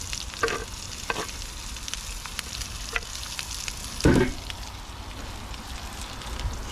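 Vegetables stirred in a pot with shrimp and ackee, a steady close sizzle of frying with occasional clinks and scrapes of a spoon and one louder stir near the middle.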